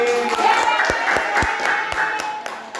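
A small group in a classroom claps in a steady rhythm, hands striking about twice per second, close by with voices chattering underneath.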